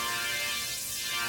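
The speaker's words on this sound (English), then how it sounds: "a high pass filter is going to sound a little bit more like this." A synthesized super saw played through a high pass filter gives a thin, hissy, bright wash with the low body stripped away, sustained evenly and loud throughout.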